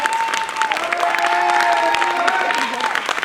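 A theatre audience applauds during a French stage show, a steady bed of clapping with some cheering while a voice carries on speaking over it.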